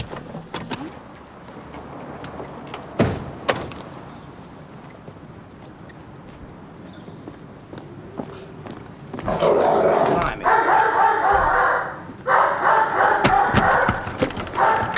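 A dog barks and growls in loud, rough bursts during the second half, among thumps and clatter, with some talk heard in the background.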